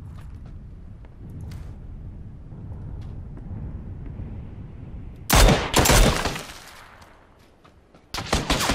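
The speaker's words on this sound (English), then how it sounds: "I love the sound of this gun" Bursts of gunfire from a weapon in the shooter game Hotdrop, a loud rapid volley after a quiet stretch, then another sharp burst near the end.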